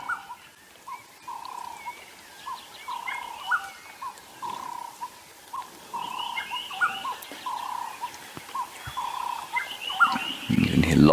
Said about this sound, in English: You can hear lots of birds calling around there.